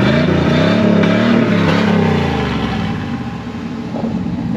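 A car engine revs hard through a loud, raspy straight-pipe exhaust, the pitch climbing and then easing back to a rough idle.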